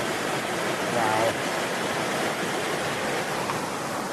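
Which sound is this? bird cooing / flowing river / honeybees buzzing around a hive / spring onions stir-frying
flowing river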